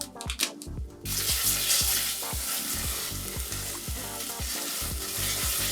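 Satay spice paste of dry ingredients sizzles and fries steadily in a hot pan, a dense continuous crackle with rhythmic stirring scrapes, no talk.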